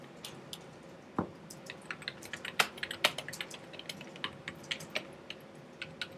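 Steady typing on a computer keyboard, a run of close, crisp key clicks in an irregular rhythm with a few heavier strokes, no voices.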